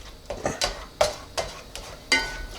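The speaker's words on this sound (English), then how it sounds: "we're basically scrambling up the eggs, and they're still cooking a little bit" Eggs being scrambled in a warm pan: a utensil scrapes and taps against the pan in a steady rhythm of about five strokes, close and fairly soft.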